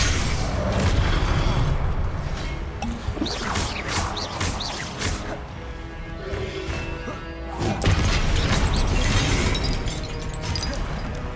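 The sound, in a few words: spell blasts in Hogwarts Legacy video game combat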